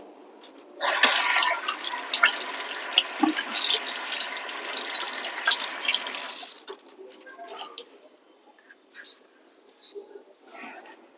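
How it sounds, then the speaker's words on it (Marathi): Hands being washed under a running tap, with a burst of splashing water for several seconds that then tapers to scattered drips and faint handling sounds, close by. "मी पुन्हा हात धुवून घेणार आहे."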